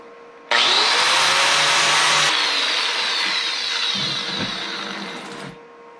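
A handheld tool trims a part for a custom board-track-style bicycle, giving a steady, loud rasping cut that starts abruptly and runs continuously for about five seconds before stopping, with no talking.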